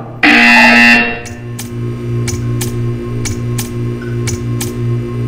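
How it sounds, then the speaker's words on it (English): A Portal 2 test-chamber buzzer sounds as a loud, bright electronic blast lasting about a second. A steady low hum follows, broken by a regular series of short sharp ticks. "When you hear the buzzer, stare at the art."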